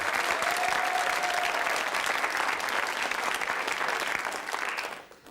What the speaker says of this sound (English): And what about some applause for the losers who did such a fantastic job of making it a great game?